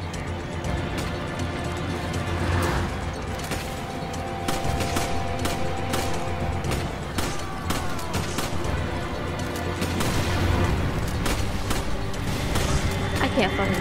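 Resident Evil 5 gunfire crackles through a dense, noisy combat scene, with rapid sharp shots scattered across the whole stretch over a loud continuous background.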